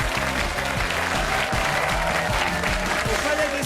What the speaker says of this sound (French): public chaleureux et nombreux venus applaudir